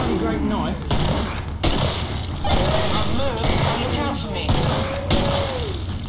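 Rapid gunfire in the video game Killing Floor, a dense volley of loud repeated shots and booms running through the whole stretch while a player talks over it.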